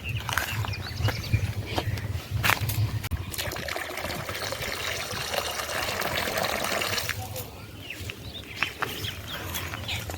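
Water pours steadily into a bird drinking bowl, a continuous splashing gush that fills the bowl for several seconds, then tapers off to a lighter trickle.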